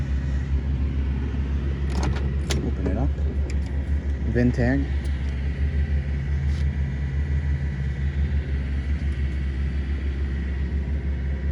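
A 1962 Chevrolet Bel Air Bubbletop with a big block engine and Muncie 4-speed idles with a deep, steady exhaust rumble, low and continuous throughout, while someone talks briefly over it.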